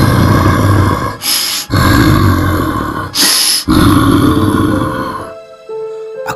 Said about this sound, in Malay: aku terdengar bunyi menderam.